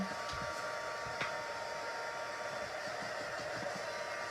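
A heat embossing tool warming up: a steady, fairly quiet fan-like whoosh of blowing hot air that holds unchanged throughout, with a faint click partway through.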